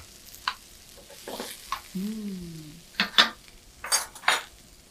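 Vegetables browning in a pan for a kosher chicken supreme with cream, a soft sizzle broken by a few spatula scrapes and clinks, with a brief whistling tone in the middle.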